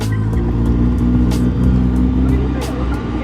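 A recently revived car engine idles loudly and steadily nearby, its low rumble constant with a few sharp ticks and knocks over the top.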